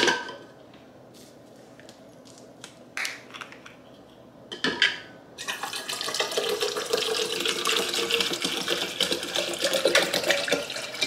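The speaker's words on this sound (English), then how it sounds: "I'm about to get my cup filled up with water" Water runs from a tap into a cup before a gym trip, a steady broadband rush starting partway through and continuing to the end, preceded by a few clinks and handling knocks in a quiet room.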